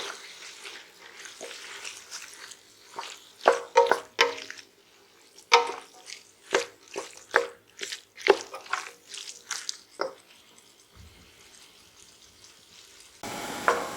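Minestrone vegetables are pushed around in a hot pan, giving a run of irregular scraping, clattering strokes over a faint sizzle, with quieter gaps between the bursts.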